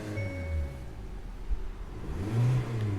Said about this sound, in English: and the engine revs